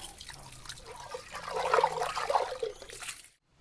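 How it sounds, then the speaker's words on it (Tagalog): Water splashes and trickles as a clay pot, a Filipino palayok, is rinsed without soap, a close wet swishing that swells in the middle and then stops. "hugasan natin na walang sabon"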